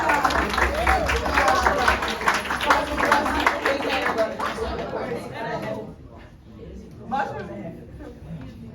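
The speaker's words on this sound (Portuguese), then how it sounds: "Salva de palmas!" Classroom applause and cheering from a group of children during a catechism lesson on the sacraments, loud and sustained for several seconds before fading, with a teacher's voice and excited chatter mixed in.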